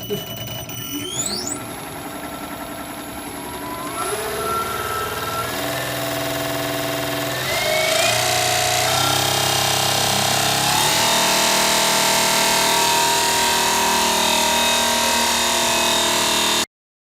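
An electric motor driving a P39 gearbox under power on a test rig spins up in stages with rising whines, then settles into a loud steady mechanical hum and whir that ends abruptly.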